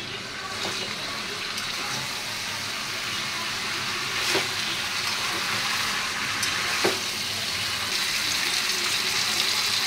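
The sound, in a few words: water poured into chicken curry pan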